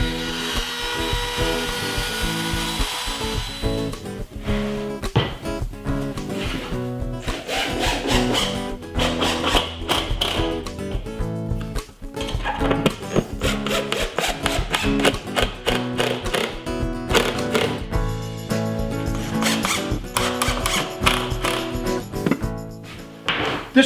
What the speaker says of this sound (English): I'm going to soften up this hard edge on the inside with a small roundover bit in the router